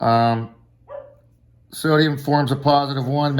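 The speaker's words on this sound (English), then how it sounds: "that's my dog barking in the background." A pet dog barks in the background, a short faint yap between stretches of a person speaking close up, indoors.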